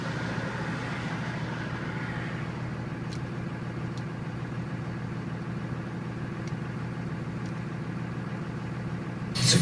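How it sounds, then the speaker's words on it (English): A Cummins diesel Dodge truck with a 6-speed manual idles steadily in a low, even rumble, heard from inside the cab with a faint tick or two and a brief bump at the very end. "I'm gonna roll the window down so you can hear this truck. This truck sounds nice."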